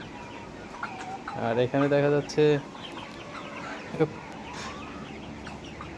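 Tiger breed chickens cluck and crow in a close burst of loud, rhythmic calls around the middle, with a short cluck later, while someone talks over them throughout.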